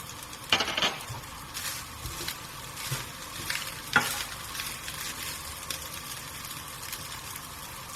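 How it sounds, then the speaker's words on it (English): Turmeric being stirred into lemon rice in a pan, a continuous soft sizzle with scraping stir strokes and a couple of sharper knocks of the spoon against the pan. "It's time to add the turmeric and mix that through nicely."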